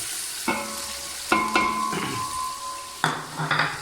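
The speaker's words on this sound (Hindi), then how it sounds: "ये मैंने दोनों चीज़ें ऐड करके इसको अच्छे तरीके से मसाले को भून लें" Spices fry with garlic-ginger paste, tomato and green chillies in a pot for beef pulao, sizzling steadily while a metal spoon scrapes and clinks against the pan several times, close by.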